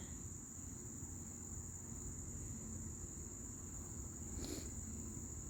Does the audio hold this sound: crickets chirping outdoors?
yes